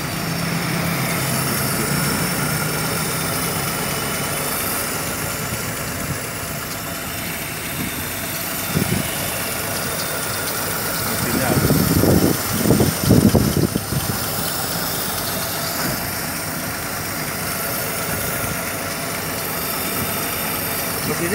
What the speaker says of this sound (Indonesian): Mesinnya halus, Pak.